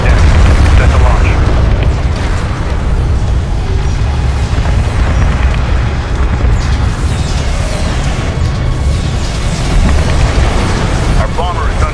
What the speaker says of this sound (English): Our bomber is under enemy fire.